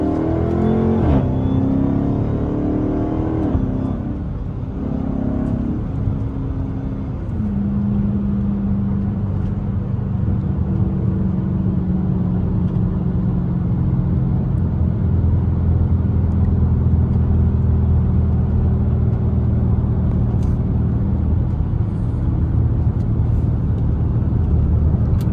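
A straight-piped Chrysler 300 drones loudly from the interior while driving, its exhaust note rising and falling through downshifts and then settling into a steady deep roar, with no voices over it.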